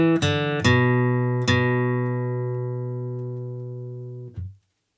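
Measure 5 of Arkansas Traveler played on a flatpicked acoustic guitar: three clear picked notes that ring out and decay slowly, then a final brief muted strum, close and alone.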